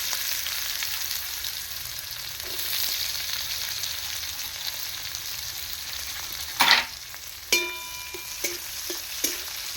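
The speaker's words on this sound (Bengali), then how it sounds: "এই পেঁয়াজের থেকে কিছুটা পেঁয়াজ তেলে দিয়ে দিচ্ছি" Chopped onions sizzle steadily in hot oil as they are added to the pan, followed by a few sharp clinks and scrapes of a utensil against the pan toward the end.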